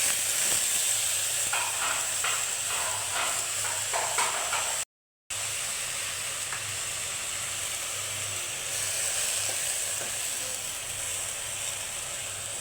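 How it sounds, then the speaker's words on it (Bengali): Prawns fry in a hot pan for a spinach dish, a steady sizzle with rhythmic scraping and stirring strokes early on, close by, broken by one brief cut of silence before the sizzle continues alone. "চিংড়ি মাছ ঢেলে দিলাম। মাছগুলো ভালো করে কষিয়ে এর মধ্যে পালং শাক দিয়ে দিব।"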